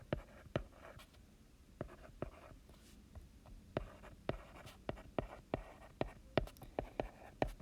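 Math notes being written by hand, a pen or pencil making soft scratching strokes and sharp taps in an irregular rhythm, close and quiet with no talk.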